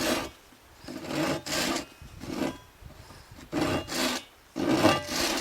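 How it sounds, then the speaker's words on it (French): Fine-toothed saw scoring a shallow groove into a wooden stick turned by hand while carving beads: repeated rasping strokes, about six, close and fairly loud with short pauses between them. "Donc un trait de scie, tout en faisant tourner mon bâton"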